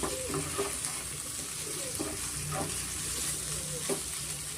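Curry leaves chicken pepper fry sizzles steadily in a pan, with repeated scraping stirs of a spatula cutting through the constant frying hiss; no one speaks.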